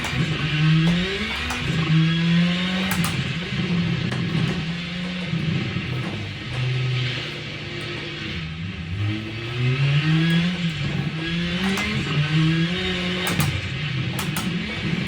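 An Alpine car's engine in a racing game revs through repeated rising and falling waves on a snow circuit, shifting up and down steadily, fairly loud and alone.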